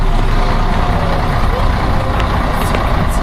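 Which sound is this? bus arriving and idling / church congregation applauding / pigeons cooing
bus arriving and idling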